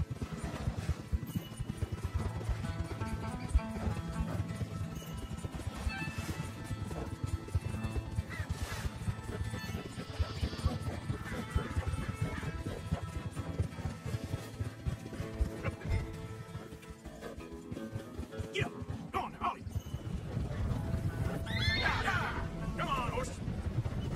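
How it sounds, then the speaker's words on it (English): Horses in Red Dead Redemption 2 give a few neighs and whinnies over steady hoof clip-clop and ambient game sound, with a voice speaking at times throughout. "ride out to the horses, drive them back"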